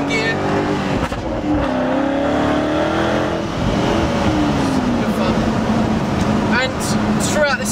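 A Jaguar XKR with a Spires Stage 3 exhaust revs hard and close, its loud engine note rising and falling through the gears on overrun, with continuous roar throughout and faint crackles near the end.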